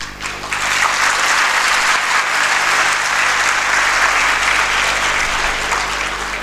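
A convocation audience at NIT Durgapur breaks into loud, sustained applause from a large hall crowd, a dense unbroken wash of clapping for several seconds with no voices.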